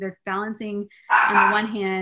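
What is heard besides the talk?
dog barking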